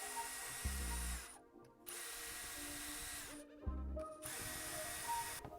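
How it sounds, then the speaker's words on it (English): Screws being removed from a Rekt Jury controller with a small electric screwdriver, several short whirring bursts with ratcheting clicks between them, close up, no voices. "otherwise pull the screws out, 7 to the side, and 7 on the other side."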